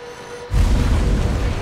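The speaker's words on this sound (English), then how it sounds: "that's the sound of a crushed automobile being shredded into a million pieces." An industrial car shredder tears into a crushed automobile, starting suddenly after a quiet moment and continuing as a loud, dense, rumbling crunch.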